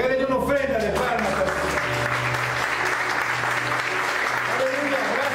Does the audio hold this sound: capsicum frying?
no